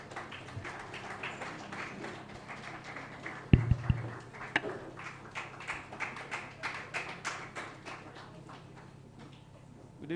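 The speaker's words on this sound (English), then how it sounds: "Keep clapping" Audience at an event in Abuja applauding at a distance, a faint even patter of many hands clapping that continues steadily, with a few louder knocks early on.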